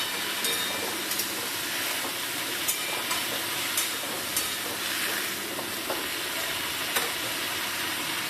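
Pumpkin and yardlong beans frying in a pan give a steady sizzle throughout, with small clicks and stirring scrapes scattered across it and no talking.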